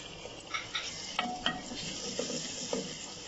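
Onions and tomatoes fry in a pan, a steady sizzle broken by scraping stirs and a few light clinks of the spoon against the metal.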